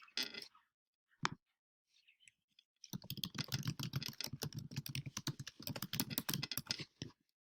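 Typing a form title on a computer keyboard: a couple of isolated clicks first, then a quick, continuous burst of close, crisp keystrokes lasting about four seconds before stopping.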